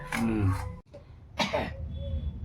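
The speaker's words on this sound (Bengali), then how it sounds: "কাশি হয়ে যাচ্ছে নাকি হ্যাঁ কেসেই যাচ্ছে কাশি" Two harsh coughs, close by, separated by a short pause, with a faint murmur of background noise.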